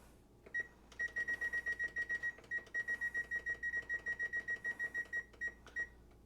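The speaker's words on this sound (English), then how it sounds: "I'm going to set my timer for 30 minutes." A kitchen oven timer being set for 30 minutes gives a rapid run of bright, evenly spaced beeps, about two dozen, close and clear over low room hum, with a short pause in the middle.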